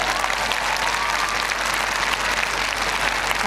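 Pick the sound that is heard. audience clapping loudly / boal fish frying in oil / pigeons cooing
audience clapping loudly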